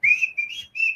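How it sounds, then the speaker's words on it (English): A person whistles a cheerful tune alone, three bright sustained phrases with short gaps between them, close and clear. "he can whistle a happy tune"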